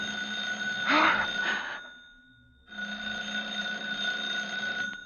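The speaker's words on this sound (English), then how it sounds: "I was standing next to her at 11:30 when the phone rang." A telephone rings with a sustained electronic trill, pauses briefly, then rings again, fairly close and clear.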